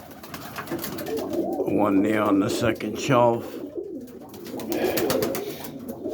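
Pigeons in a racing loft, one bird slipping out through the wire, give soft cooing calls close by while someone talks over them.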